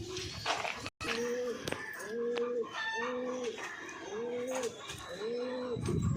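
Pigeons in a loft coo in a repeated rhythmic series of low, rolling calls at close range, while someone talks over them.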